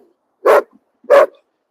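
A dachshund gives two short, sharp barks about half a second apart, close and clear against near silence.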